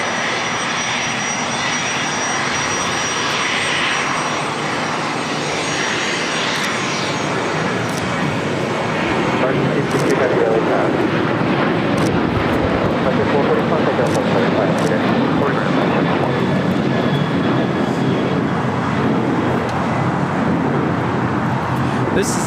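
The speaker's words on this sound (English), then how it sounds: "1305 taking off back to Dallas Fort Worth on a 737-800 Astrojet Retro livery." An American Airlines Boeing 737-800 in Astrojet retro livery takes off from LAX, its engines a steady broad roar that swells and grows louder in the second half, with people talking over it.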